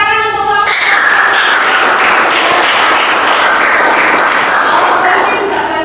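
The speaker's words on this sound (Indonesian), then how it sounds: "Beri tepuk tangan untuk kelompok." A high school physics classroom full of students breaks into loud, steady applause for a group after a brief voice, clapping continuing evenly for several seconds.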